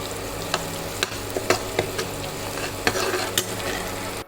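Onions sautéing with a pinch of turmeric in a pan, a steady low sizzle broken by sharp clinks and scrapes of a spoon stirring at irregular intervals, close and moderately loud with no voices.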